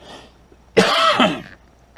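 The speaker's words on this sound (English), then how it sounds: "I got a cough." A single loud, harsh cough bursts out close up, lasting under a second, in an otherwise quiet room.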